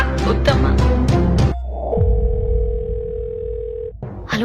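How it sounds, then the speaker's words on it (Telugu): A telephone call goes unanswered, with a steady dial or ringback tone holding for about two seconds after a burst of loud talk, then breaking off as voices return. "ఫోన్ ఎత్తండి సార్ ప్లీజ్"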